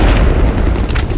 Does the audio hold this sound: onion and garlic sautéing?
no